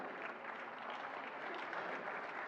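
Applause from an awards-ceremony audience at a national handicraft ceremony, a dense, steady wash of many hands clapping throughout, fairly distant and even, with no talk.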